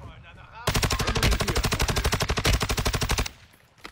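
Rapid automatic gunfire in a shooter video game, a loud sustained burst of evenly spaced shots lasting about two and a half seconds, followed by quieter background noise and a single sharp knock.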